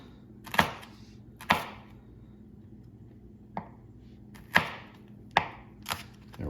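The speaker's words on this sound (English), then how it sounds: "And then what I like to do is kind of push them down and slice them into skinny little sticks" A knife cuts peppers into skinny sticks on a cutting board: six sharp separate chops at uneven intervals, close and clear, with quiet gaps between them and no talking.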